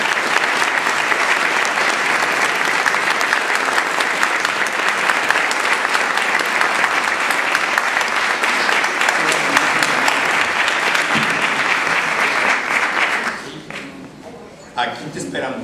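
A large theater audience at a comedy stage show applauds loudly and steadily for about thirteen seconds, then the clapping fades and a voice speaks briefly over the last of it.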